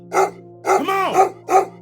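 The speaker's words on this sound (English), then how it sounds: "That's about the last of your barking I'm gonna take, you filthy beast." A dog barks in a quick run of four loud, close barks over a steady low hum, some of them drawn out into a rising and falling yowl.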